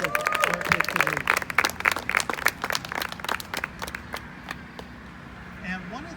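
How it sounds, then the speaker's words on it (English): An audience at a school district speaking event gives a round of applause, with sharp, uneven claps strongest at the start that thin out and fade, and voices murmuring underneath. "give her a round of applause"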